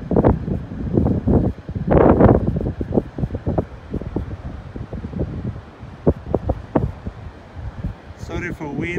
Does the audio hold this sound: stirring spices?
no